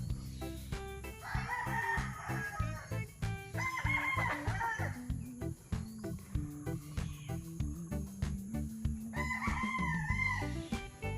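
Six-month-old gamefowl stags, Larry Romero Sweater cross broodstags, crow repeatedly in overlapping calls at a farm, loud and close, with clucking and other fowl sounds around them.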